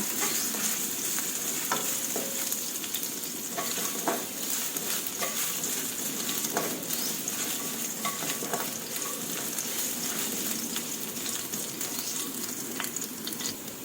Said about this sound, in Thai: พัดไปเรื่อยๆค่ะ พอขิงโดนน้ำมันโดนความหอมจะมีความหอมออกมา